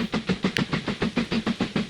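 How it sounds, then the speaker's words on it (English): Steam train pulling empty carriages over a suspension bridge in the train-building game Mashinky, a steady rhythmic clickety-clack of wheels on rail joints repeating quickly and evenly, fairly close, with no talk. "steam train now with its empty carriages."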